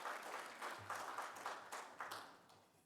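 A church congregation claps in welcome during a Sunday worship service, a moderate, steady wash of hand claps lasting a few seconds with a few sharper individual claps standing out, heard at some distance without speech over it.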